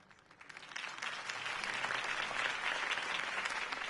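Crowd applause from a political campaign rally for Harvey Dent in the Batman Telltale game, a broad steady wash of clapping that swells in over the first second and holds loud and even, with no voices on top.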